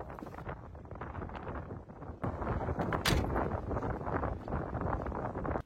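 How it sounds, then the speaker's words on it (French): Strong wind buffets the microphone in a continuous roaring rush, growing louder and gustier partway through, with no voices. "Il y a un vent de fou furieux."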